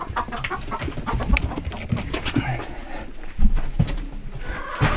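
Chickens cluck and murmur nearby in a busy, irregular chorus, with occasional louder squawks over a low background.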